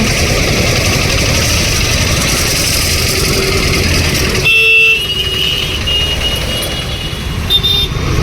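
Busy road traffic thick with auto rickshaws, engines running steadily nearby and a few short horn toots, loud and continuous.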